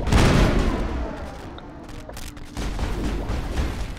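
Weapons fire in the Mass Effect video game, a dense burst of shots and booming impacts at the start that ease off, then pick up again as rattling gunfire toward the end.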